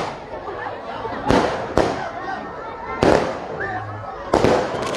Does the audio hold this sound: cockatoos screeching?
no